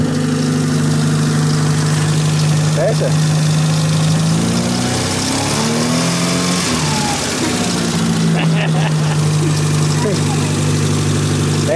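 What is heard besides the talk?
car engine idling and revving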